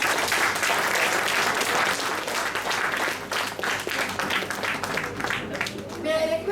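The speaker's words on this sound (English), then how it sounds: "Let us present each one of them an energetic round of applause." An audience breaks into applause at a prepared speech event, a dense, loud burst of clapping that thins and fades toward the end.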